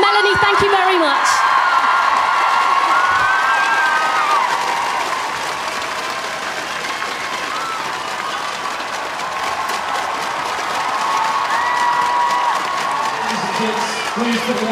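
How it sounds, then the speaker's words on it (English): An outdoor crowd at the Olympic torch arrival in Wales applauds and cheers with whoops, loud at first, then dipping slightly and rising again, with scattered voices mixed in. "Let's give her a huge round of applause."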